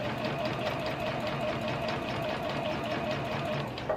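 A sewing machine runs a continuous basting stitch through dress fabric, giving a steady, even mechanical whir and rapid needle patter at close range throughout, with no voice.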